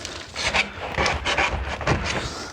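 A lock knife cutting through a flexible stainless stove flue liner, giving a steady rasping, scraping sound with uneven strokes close to the microphone.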